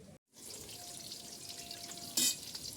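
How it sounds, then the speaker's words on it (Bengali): Eggplant, pointed gourd and potato slices frying in oil in a pan, a faint steady sizzle with a brief cut near the start and a short sharper burst toward the end. "5 রকম ভাজা হচ্ছে, দেখো বেগুন ভাজা, পটল ভাজা, আলু ভাজা"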